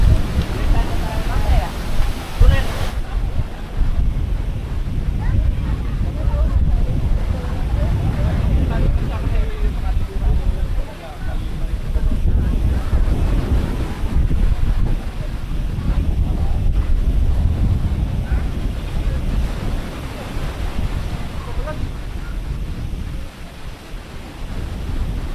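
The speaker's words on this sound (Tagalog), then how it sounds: "Lakas na ng hangin." Strong wind blowing across the white sand shore on Boracay, with waves and surf underneath, a steady broadband roar that stays loud and continuous throughout, with a voice talking over it.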